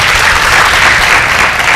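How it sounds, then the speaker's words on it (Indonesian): Studio audience applauding for a guest doctor on a health talk show, a dense, loud burst of many hands clapping that fills the whole moment without a break. "Tepuk tangan buat Dokter Daniel"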